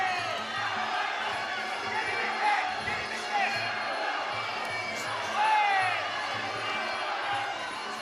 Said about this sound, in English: just let everyone take in the crowd noise